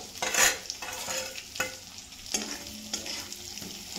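Ridge gourd being stirred with masala in hot oil in a pan, intermittent scraping strokes of a spatula over a soft sizzle, close and fairly quiet, with no talking.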